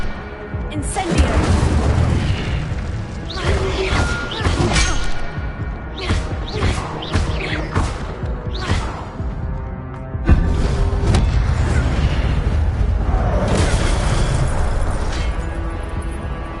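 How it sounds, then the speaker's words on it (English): Repeated fiery spell blasts from Incendio casts in the Hogwarts Legacy video game, loud booming bursts in rapid succession over a dense, busy game soundscape. "Incendio!"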